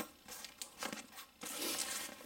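Velcro rips open on a tactical MOLLE IFAK medical pouch, two or three harsh tearing bursts close by, the last longer and steadier, with no speech over it.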